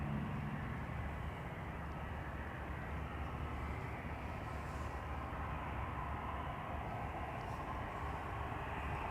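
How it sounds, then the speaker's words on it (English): An EasyJet Airbus A320 taxis at Amsterdam Schiphol Airport, giving off a dense, steady roar of jet engines that stays close and loud throughout with no voices. "coming this way is an EasyJet A320 to Naples, Napoli"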